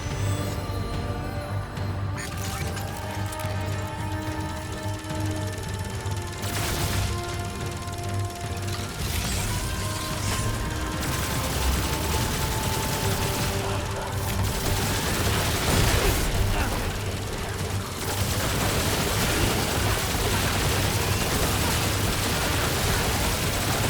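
Sustained automatic machine-gun fire in the video game Remnant 2, a dense continuous fusillade of rapid shots running throughout with brief pauses, mixed with game effects and low ambient music, loud and close.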